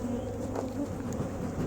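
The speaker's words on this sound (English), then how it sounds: "a bunch of bees." Bees humming steadily around an open hive box during a colony split, a low continuous drone close to the ear with no voices.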